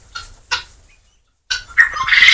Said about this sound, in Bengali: তিথি মুরগি